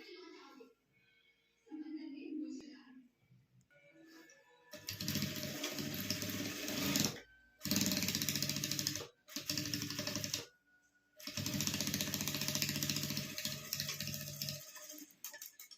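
A home sewing machine stitches a fabric makeup pouch in several loud bursts separated by brief pauses, with quiet speech and handling sounds before the stitching starts.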